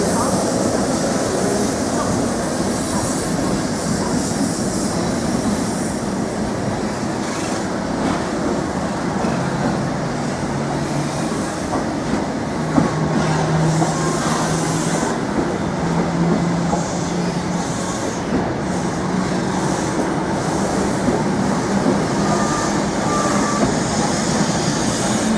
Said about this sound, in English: we've got 19008 at East Anglia, now departing for Ipswich Station, working the 1109 service to London Liverpool Street